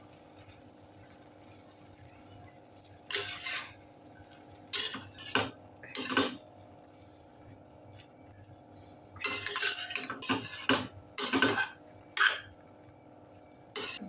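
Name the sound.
stirring and mixing prawn fried rice in a pan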